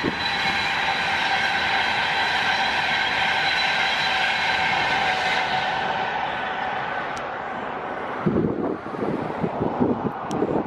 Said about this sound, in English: Another train, look.